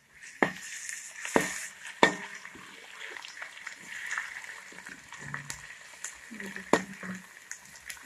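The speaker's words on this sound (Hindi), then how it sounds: "अब इसमें ऐड करेंगे अदरक लहसुन का पेस्ट" Onions sizzling in a pan as ginger garlic paste is added for egg dum biryani: a steady crackling fry with sharp clinks of a spoon against the pan, scraping and stirring, close and moderately quiet.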